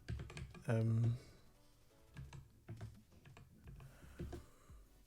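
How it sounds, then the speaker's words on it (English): Bursts of typing on a computer keyboard, quick irregular key clicks spread across a few seconds, heard close and under a man's casual speech. "now I'm typing a lot of"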